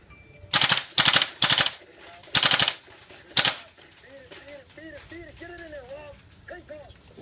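Five short bursts of rapid airsoft rifle fire from a GHK G5, sharp and loud, separated by brief pauses, followed by people talking.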